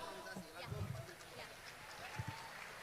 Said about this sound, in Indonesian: Tepuk tangan sekali lagi buat stand up Bayangkara